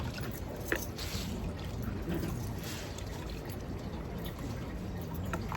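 Water poured into a bucket holding rusty metal items for eco dyeing, a steady continuous splashing and trickling wash that runs throughout at moderate level, with no one talking.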